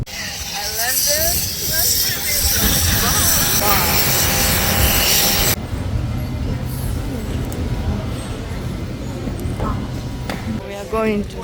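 A Precision Air airliner in flight gives a steady, loud engine roar with a broad rushing hiss, heard from inside the cabin; the level drops partway through and then holds as a lower constant drone.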